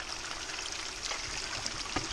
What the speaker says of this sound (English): I'll get a little bit of water just to get the bottom out.